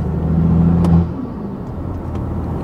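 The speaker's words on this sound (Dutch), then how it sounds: "Ik hoor vooral het geblubber van de uitlaat." A 400 HP BMW M2 exhaust burbles from inside the car, a low rumbling drone that swells briefly then settles into a steady idle-like murmur.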